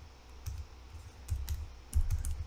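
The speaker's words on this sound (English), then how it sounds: "in here you're gonna type ssh username at IP address." Keys clatter on a computer keyboard as a command is typed into a Linux terminal, giving a close, quiet run of uneven taps in small bursts with no talking.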